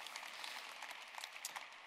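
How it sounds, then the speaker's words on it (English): Brief audience applause at a talk, a dense, even patter of many hands clapping, fairly faint and steady throughout. "Well, yes, you can clap."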